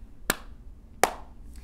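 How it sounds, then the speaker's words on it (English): Two separate sharp hand claps about three-quarters of a second apart, crisp and close, during a children's sing-along song session. "Can you clap your hands?"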